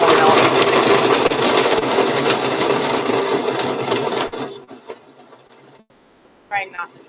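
A kitchen blender whirs loudly and steadily for about four seconds while making a Brazilian dessert, then cuts out, leaving quiet room sound with a brief voice near the end.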